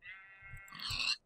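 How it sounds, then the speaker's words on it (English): A single sheep in the Minecraft video game gives a short wavering bleat, close and clear, lasting about a second with no talk over it. "There are more sheep around here."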